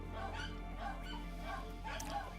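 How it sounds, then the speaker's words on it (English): Pet dogs in a home bark and yip repeatedly in excited bursts, moderately loud and fairly close, with a low steady hum underneath. "y'all are going to hear my dogs barking like crazy people"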